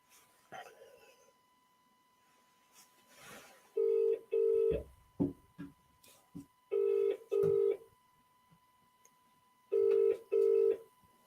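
Telephone keypad tones beep in paired bursts, three clusters of two dialing a call, fairly loud and close, with a few soft thumps and clicks between them and no talking.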